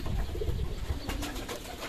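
Domestic pigeons coo softly and steadily in a rooftop loft as an unfamiliar stray pigeon lands among the flock, with low murmuring calls close by and some faint fluttering.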